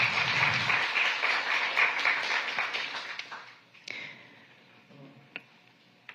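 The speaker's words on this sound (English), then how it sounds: "So please give them a round of applause." An audience at a city commission meeting applauds in a full burst that gradually thins and fades, leaving a few scattered claps near the end.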